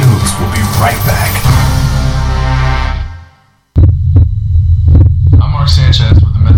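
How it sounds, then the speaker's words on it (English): A human heartbeat, loud and close, as a steady throbbing low pulse that cuts out briefly and then returns with sharper beats. "This is the actual sound of my heartbeat."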